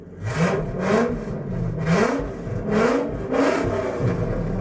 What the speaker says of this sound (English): when a V10 Excursion gets its catalytic converter stolen, it sounds like, well,